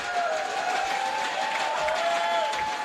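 A live crowd at the 2018 Summoners War SWC Americas Cup esports finals cheers and applauds continuously for a player, a dense wash of clapping and shouts under a faint sustained tone.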